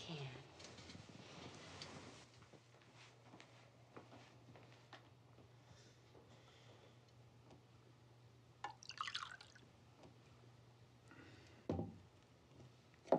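Water is poured into a glass in a quiet indoor night-time scene, soft faint drips and liquid trickles with a couple of brief louder splashes, set against a low steady hum and occasional speech.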